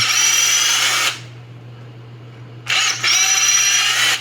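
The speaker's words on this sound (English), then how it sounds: "I'm just letting the drill bit kind of work its way up" A power drill boring a hole into a figure's torso whirs loudly for about a second, pauses with a low hum underneath, then spins up again for the final stretch.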